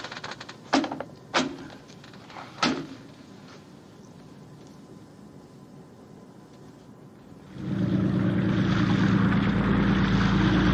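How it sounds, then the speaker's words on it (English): A propeller contact plane approaches a ship in a 1954 war film, its engine drone rising abruptly to a loud, sustained roar after a few sharp knocks and a quiet stretch. "Contact plane approaching on schedule."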